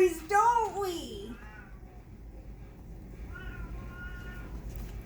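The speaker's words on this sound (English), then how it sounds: "My cat loves stories. I think he's trying to read this one to you guys." A pet cat meows a few times up close, the cries loud at first and then softer and more drawn out, over a low background hum.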